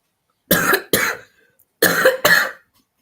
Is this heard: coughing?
yes